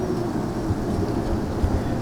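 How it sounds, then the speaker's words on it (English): Steady rain falling outdoors at dusk with a low rumble of distant thunder, a continuous dense wash of patter close around with no voices. "It's raining, it's sprinkling right now"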